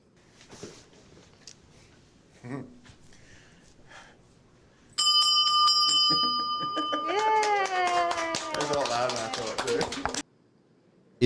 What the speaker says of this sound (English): Is the victory bell after finishing his rounds of chemo